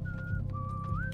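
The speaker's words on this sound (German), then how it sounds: "Pfeift ein fröhliches Liedchen" A guard whistles a cheerful little tune in the stealth game Thief, a clear, steady melodic whistle running through the whole moment over a low ambient hum, with no talking.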